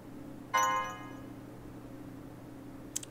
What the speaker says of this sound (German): Liz, Telefon?